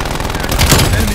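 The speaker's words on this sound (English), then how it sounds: "Sentry turret ready to fire." A sentry turret fires in Call of Duty Black Ops Cold War, a loud, close, rapid burst of automatic gunfire that runs for the whole moment along with booming game sounds.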